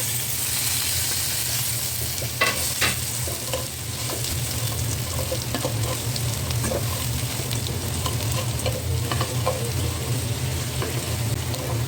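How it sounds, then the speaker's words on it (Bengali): Maggi noodles tossed into a pan with potatoes and stirred, a constant sizzle of frying under repeated scraping and clattering strokes of the spoon, close and steady throughout. "এখন এই যে নুডলসগুলি দিয়ে দিই"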